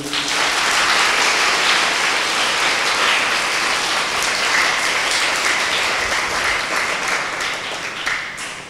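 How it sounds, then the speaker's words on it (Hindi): A Bible convention audience claps together, a loud, sustained and dense patter of many hands that runs unbroken for several seconds and then thins slightly toward the end. "ताली बजाइए"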